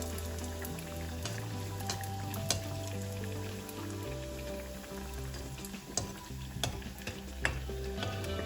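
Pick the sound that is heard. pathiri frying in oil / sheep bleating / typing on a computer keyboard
pathiri frying in oil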